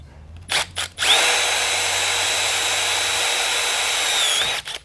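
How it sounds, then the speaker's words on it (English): A power drill whirs steadily at close range for several seconds while assembling a Kingfisher Eclipse, its pitch holding even before it spins down, with a few brief knocks at the start. "I like to drill the top first"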